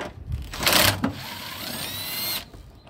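Upper bolts on the front shock absorber of a 2001 Ford Windstar being run out with a power tool, a high whirring buzz that rises in pitch and holds for over a second, preceded by brief clanks and rustling.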